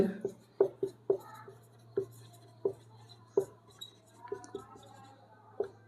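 A formula is being written on a board, heard as a few sharp taps and scratching strokes at an irregular pace, close and moderately quiet over a steady low hum.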